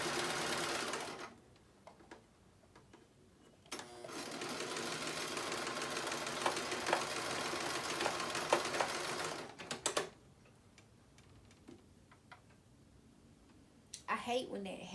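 Sewing machine stitching fabric for a scrunchie, running in two long steady bursts of rapid mechanical chatter separated by quiet handling sounds, with a brief rustle at the end; no talk during the stitching.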